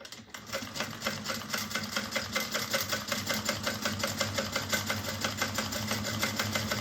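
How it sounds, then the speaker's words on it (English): Close, steady sewing machine running continuously as it top stitches an eighth of an inch along vinyl on a shopper's tote, with a rapid, even needle rhythm and no talking. "So I'm just top stitching 1/8 of an inch on each side of the vinyl."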